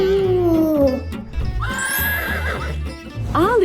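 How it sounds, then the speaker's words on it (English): A horse gives a loud, drawn-out whinny that slides downward in pitch, followed by shorter rising and falling neighs, with faint hoof clip-clops and background noise underneath. "It's a horse."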